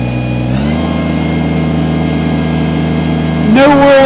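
An old tractor engine runs with a steady, loud mechanical hum and drone, then rises sharply in pitch and intensity near the end as it revs up.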